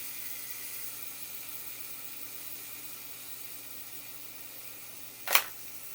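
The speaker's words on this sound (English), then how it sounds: "Again, completely mechanical, it's a clockwork shutter." A Pentax MX film camera's mechanical self-timer runs as a faint whirring clockwork hiss, then the clockwork shutter fires with a single sharp click near the end.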